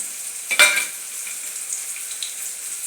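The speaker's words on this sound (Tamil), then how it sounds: "கறிவேப்பிலை, ஜீரகம், எண்ணெய் எல்லாம் சேர்த்து கிண்டிக்கிட்டு இருக்காரு." Curry leaves, cumin and oil stirred and fried in a home kitchen, giving a steady soft sizzle with a sharper burst of crackling and a stir near the start, close and moderately loud, with no talking.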